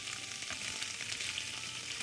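Tofu frying in a pan, a steady, close, bright sizzle with faint crackles throughout and no talking.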